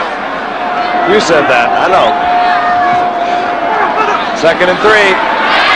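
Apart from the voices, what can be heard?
football stadium crowd rumbling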